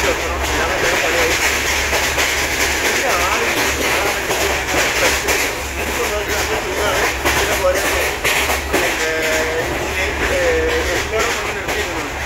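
A train running on railway tracks near Udupi railway station gives a steady, close rumble and rattle with faint squeals throughout, and people talk over it.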